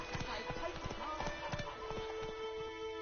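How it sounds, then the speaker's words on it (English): Horse hooves clip-clop at a steady trot in The Witcher 3, close and rhythmic over the game's ambient sound, with a voice speaking in the scene. "Whoa there, Roach."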